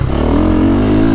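A KTM 450SXF Factory Edition dirt bike's single-cylinder engine runs loud and close with a steady, strongly vibrating drone, its revs climbing slightly through the short burst.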